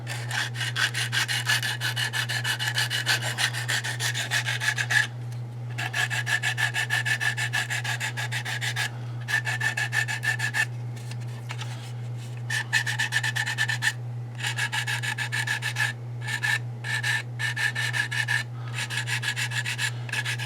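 Hand sanding in a workshop with 400 grit sandpaper: steady, close rasping strokes with brief pauses between passes, over a constant low electrical hum.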